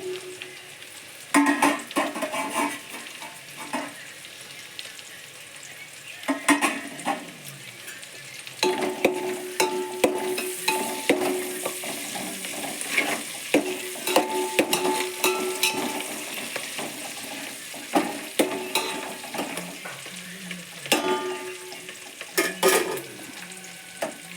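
Curry leaves and turmeric crackle in hot tempering oil for a Telangana flattened rice tadka, a near sizzle broken by repeated bursts of spoon scraping and light pan clinks, with no voices.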